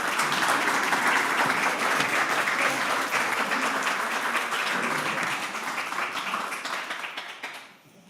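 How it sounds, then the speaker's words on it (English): Audience applause at a 2025 annual meeting, a broad sustained wash of clapping from a large room that gradually thins and dies away near the end. "Would you give them a round of applause?"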